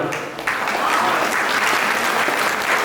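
Steady audience applause fills a Chhattisgarhi poetry gathering (kavi sammelan) at a newspaper's foundation-day event, starting after a brief dip and then holding dense, loud and even throughout with no voices on top.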